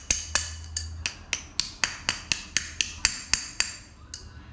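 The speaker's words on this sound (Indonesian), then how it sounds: "korang kena ketuk bearing ni hati-hati ah, sebab takut apa rosak dia punya bearing ah" Steady hammer taps on a new bearing being fitted into a Hitachi indoor air-conditioner motor, about a dozen sharp metallic knocks at an even pace, close and clear, alone with no talk.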